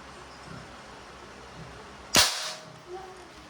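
A single sharp crack from a Crosman MagFire Mission break-barrel airgun firing one shot, fairly close, followed by a brief faint mechanical thud, against a quiet background.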